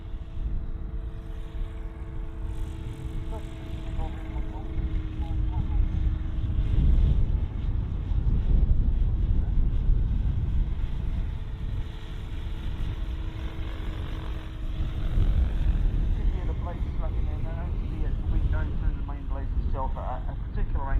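A model helicopter makes a transitional landing at a model airshow, its rotor blades giving a pulsing, swelling whine and rumble that rises and falls under a commentator's amplified voice.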